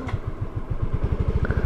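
Yamaha XRide 125 motorcycle engine running close by, a steady throbbing pulse that quickens toward the end as the revs climb, with light mechanical clatter and no talk.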